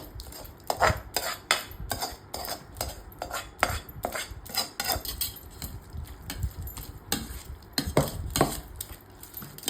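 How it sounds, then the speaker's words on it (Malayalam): A spoon stirs a mix of sautéed onion, chilli powder and turmeric in a pan, producing quick, uneven scrapes and metallic clinks close up with only a faint sizzle; no one speaks. "നമ്മൾ ഈ മിക്സ് എല്ലാം കൂടെ അതിട്ട് ഇളക്കുന്നു."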